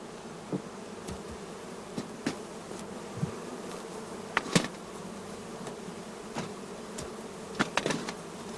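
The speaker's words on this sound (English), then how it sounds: "we open the entrance holes and let the bees fly" Honeybees buzzing as they fly out of the entrance holes of freshly opened hive nuclei, a dense continuous hum with individual bees zipping close past at intervals.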